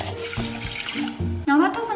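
Water pours from a tap into a medium-sized pan for cooking brown rice, a short splashing rush that changes pitch as the pan fills, with a voice speaking over it.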